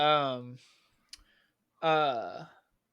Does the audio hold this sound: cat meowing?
yes